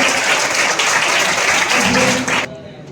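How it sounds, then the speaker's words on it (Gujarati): An audience at a Thakor Sena award ceremony in Lathi gives loud, sustained applause as an MP is honoured with a memento, mixed with voices, before it cuts off abruptly. "જોરદાર તાળીથી બતાવો"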